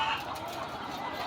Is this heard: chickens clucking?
yes